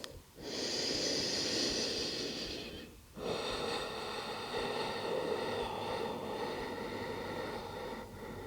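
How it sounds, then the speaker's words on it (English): Slow, deep breaths during a vinyasa yoga flow, each long airy inhale and exhale held steady for seconds, with a brief pause between two breaths; close and fairly loud, with no talking. "Take a few deep breaths."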